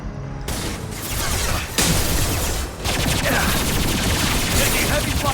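Dense, heavy gunfire from Mass Effect 2, a continuous wall of overlapping shots and blasts that stays loud throughout with brief dips, close and chaotic.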